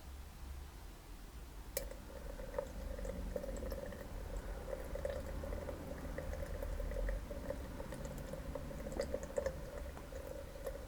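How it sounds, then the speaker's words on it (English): Acrylic house paint, including teal, poured from over a foot above a painting surface makes a steady, soft liquid trickle and spatter that lasts about eleven seconds, with no one talking. "I'm pouring from over a foot away"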